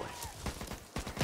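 Short bursts of video game gunfire in the zombie shooter Back 4 Blood, a handful of quick cracks in an uneven rhythm over a busy background, with faint voice-like sound mixed in.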